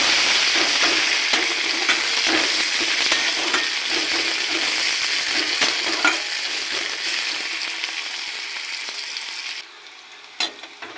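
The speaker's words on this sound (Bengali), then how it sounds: "গরম তেলে জিরে ফোড়ন দেবো দেবো পেঁয়াজ পেঁয়াজ কুচিটাকে ভেজে নেব" Chopped onion frying in hot oil with cumin seeds, a loud continuous sizzle with scraping stirs throughout, close up and without talk, easing slightly at the end.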